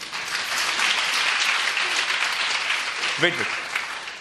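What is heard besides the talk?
audience applause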